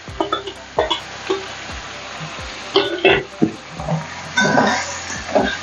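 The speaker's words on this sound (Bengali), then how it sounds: "দিয়ে ভালো করে একটু নাড়িয়ে নিতে হবে।" A spatula stirs boiled, drained banana flower through hot oil in a frying pan, giving close, uneven scrapes and soft sizzling with a few sharper knocks against the pan, with no talk.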